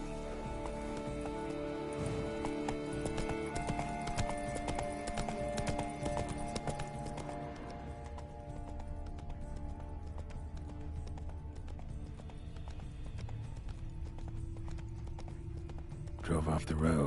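Hooves clip-clop in a steady fast rhythm as a horse gallops in The Witcher 3, close and continuous, with game music and ambience underneath.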